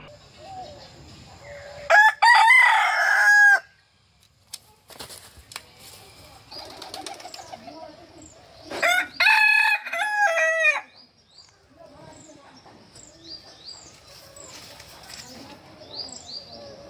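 Roosters crow loudly twice among a flock of chickens, with soft clucking and bird chatter filling the gaps between the two long crows.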